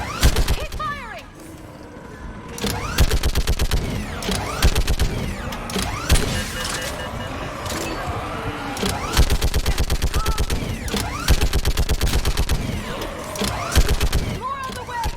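Sci-fi combat in the video game Mass Effect 3: sustained rapid automatic gunfire in long loud bursts with brief gaps, mechanical clatter and a shouted voice mixed in.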